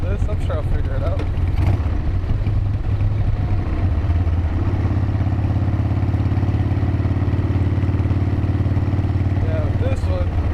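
A motorcycle engine drones steadily while the bike is ridden, its even low rumble shifting pitch slightly partway through, with faint wind noise over it.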